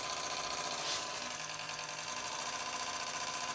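The wire feed motor of an Iskra semi-automatic welder runs with a faint, steady mechanical whir and light rhythmic ticking, heard close and alone for a few seconds.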